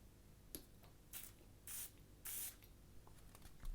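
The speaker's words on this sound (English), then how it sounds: "It's got a silver chrome type atomizer. Let's give it a spray." Several short hissing bursts from a pressurised silver chrome fragrance atomizer, close and crisp, with a quiet tap between sprays.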